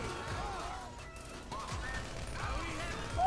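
Gunfire aimed at police in a GTA 5-style video game, bursts of shots and crashes mixed into a busy, loud game soundscape while a voice talks over the action.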